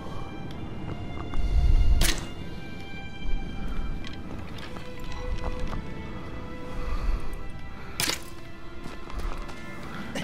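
Agro the horse gallops in Shadow of the Colossus, a steady run of hoofbeats under a thump and a couple of sharp clanks, with no voices.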